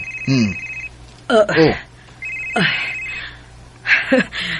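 A telephone rings with an incoming call, its repeated electronic trills mixed with voices talking over and between the rings in a domestic scene.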